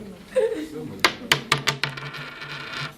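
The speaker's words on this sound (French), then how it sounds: "vous allez chacun, à tour de rôle, lancer les dés" Dice clatter and bounce across a table in a rapid run of sharp clicks that quickly settle, with people talking softly nearby.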